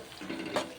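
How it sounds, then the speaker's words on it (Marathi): Cornflour slurry poured into a pan while making paneer chilli, a short soft liquid splash and trickle, faint and quick with no talk. "कॉर्न फ्लोअरचं पाणी आपल्याला त्यामध्ये घालून घेऊयात"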